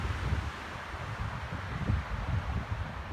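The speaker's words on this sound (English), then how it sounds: "It's 35 mile an hour winds with gusts of 50 miles per hour." Rough, blustery wind of about 35 mph roars and buffets the microphone, rising in gusts of up to 50 mph toward the end, in a forest, with no one speaking.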